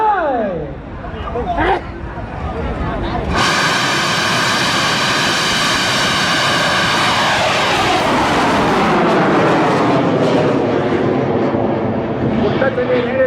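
A homemade bamboo rocket at a rocket festival in Phanom Phrai, Thailand, launches with a sudden loud, sustained roaring whoosh after a few seconds and keeps blasting steadily, with a crowd's voices murmuring underneath.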